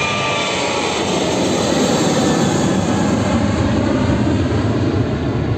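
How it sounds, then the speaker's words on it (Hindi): An airplane taking off nearby gives a loud, steady, broadband engine roar that stays strong and even for several seconds, with a faint high whine riding on top and no voices. "यहाँ पे जो एक प्लेन का आवाज सुनाई दे रहा है"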